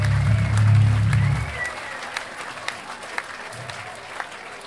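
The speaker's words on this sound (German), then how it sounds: "einfach mal richtig schönen Applaus an alle Jungs" Concert audience applause at a Berlin punk club, starting under a low rumbling voice and thinning into scattered individual claps that taper off.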